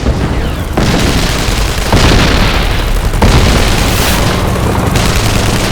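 Dynamite blasts tearing holes in a base's perimeter wire during a Vietnam War battle, heard as loud, continuous roaring booms with a few sharp fresh bursts layered one on another.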